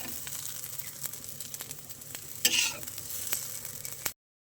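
Egg kurkuri with onions sizzling in a pan while being stirred, with a soft steady fry, scattered spatula clicks and a brief louder scrape before the sound cuts off.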